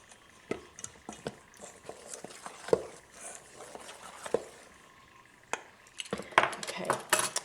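Flour and baking powder being mixed in a bowl for golden syrup dumplings, heard as scattered clinks and scrapes of a utensil against the bowl, with a busier burst of scraping near the end.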